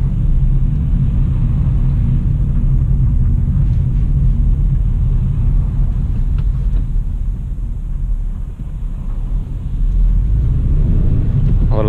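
A Hyundai Solaris drives at about 50 km/h over a stretch of speed bumps, with a continuous heavy low road rumble, a brief dip in the middle, and no talking.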